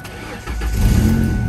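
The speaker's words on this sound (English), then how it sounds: "Then we can start the car." A car with a very dead battery is started after a boost from a supercapacitor jump starter: a brief starter crank followed by the engine catching and rising into a loud, steady low rumble close by.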